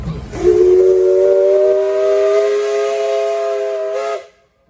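A loud steam traction engine whistle at a steam threshing show sounds one long, steady blast with a hissing edge, holding for about four seconds before cutting off into silence.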